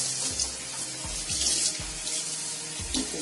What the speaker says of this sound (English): At this point we're going to rinse with warm water.